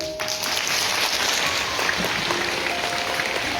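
An audience applauds a folk amateur theatre troupe at a charity premiere, with steady clapping from many hands at moderate volume under a faint hum.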